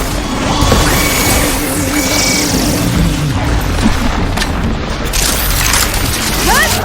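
Glowing crystals detonate in a PS5 action game, a dense booming blast with crashing debris that fills the whole clip, loud and sustained under continuous game sound.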